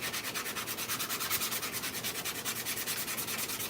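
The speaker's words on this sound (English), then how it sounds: "hand sanding to like the prints like this." A 3D-printed Iron Man neck piece is hand-sanded in steady, rapid back-and-forth strokes, a close, soft, even rasping rhythm heard alone for a few seconds.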